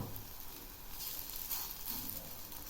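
Sweet pumpkin slices shallow-fry in a pan with a moderate sizzle while a spoon flips them, bringing brief scraping bursts partway through, close with no talking.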